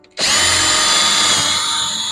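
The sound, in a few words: power drill boring through 2x4 lumber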